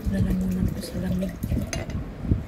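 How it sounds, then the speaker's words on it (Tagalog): Cold water poured into a lemon and cucumber drink, a steady trickling splash running close by under a woman's speech, with a few soft clinks of a container. "Malamig na tubig na lang ang ilagay ko dyan."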